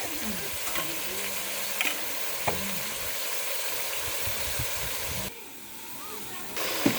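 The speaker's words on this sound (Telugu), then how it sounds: "ఇలా కలుపుకోవాలి, మగ్గించుకోవాలక్క." Mutton curry is stirred in a pan, giving a steady sizzling hiss with spoon scrapes on the metal and a brief dip near the end.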